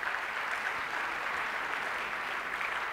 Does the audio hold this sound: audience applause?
yes